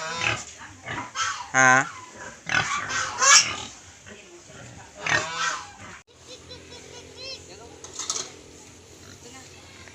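Native pig being carried down to a lower spot on a farm, grunting and squealing in loud bursts close by, with people talking over and between the calls.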